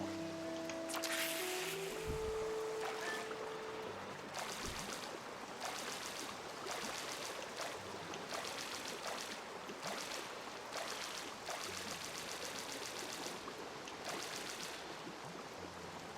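Rushing waterfall water in The Legend of Zelda: Twilight Princess, a steady broad wash of flowing water that runs throughout, with faint game tones and soft ticks layered on top and no talking.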